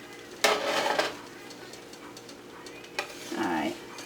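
Grilled cheese sandwich flipped in a pan, two short bursts of sizzling with a scrape as it turns, near and moderately loud over a quiet kitchen background.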